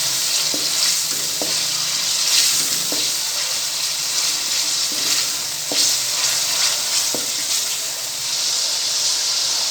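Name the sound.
chillies and tomatoes frying for palak gosht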